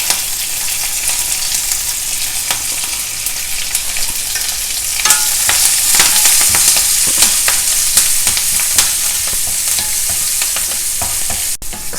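Dals, chopped green chilies, ginger and curry leaves stir-frying in a hot pan for a South Indian dish. A loud, close sizzle runs throughout, with spatula scrapes and stirring clatter over it.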